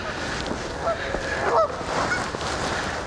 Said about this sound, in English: And the geese will be in the background